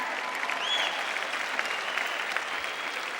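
A church congregation claps together in a dense, sustained burst of applause that fills the room evenly from start to finish, with no single voice standing out.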